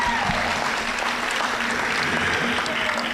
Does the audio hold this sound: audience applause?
yes